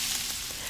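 Carne asada meat frying in a pan over medium-low heat, a steady, close sizzle with dense hiss that runs throughout without pauses.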